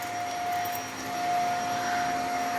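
A vacuum cleaner runs steadily inside a storage unit, giving a continuous, moderately loud whine and hum with no break and no talking.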